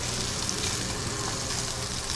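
Tomahawk roast searing in a cast iron roasting pan, with a loud, steady sizzle and crackle as fat flares up, continuous and close with no talking.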